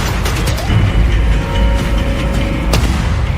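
A single sharp gunshot bang cracks out near the end, loud and close, over a steady low rumbling background with no voices, in a village crime-drama scene.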